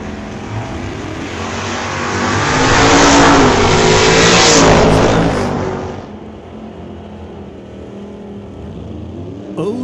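A Monte Carlo and a dragster launch side by side at a drag strip, engines roaring up to a loud, near peak of acceleration before fading as the cars pull away down the track.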